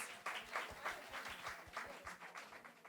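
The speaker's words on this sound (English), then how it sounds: "Okay, round of applause." A live audience at a midlife comedy show gives a steady round of applause, many hands clapping in a dense patter that holds for a few seconds, with a faint voice underneath.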